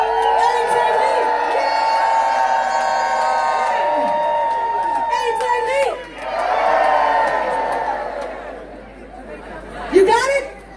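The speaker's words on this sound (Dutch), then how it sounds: "En jullie gillen de longen uit je lijf" A large crowd at a Dutch event screaming, whooping and cheering loudly, sustained shouts that dip briefly midway then surge again, with a final burst of shrill cries near the end.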